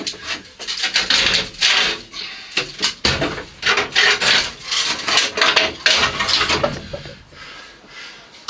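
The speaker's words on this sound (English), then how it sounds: "A couple of more pipes to be cut" Pipes under a Nissan Micra are cut with repeated rasping, sawing strokes, a close rhythmic back-and-forth scraping that goes on steadily with short pauses.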